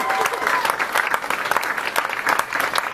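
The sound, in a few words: audience applause for comedians at a comedy night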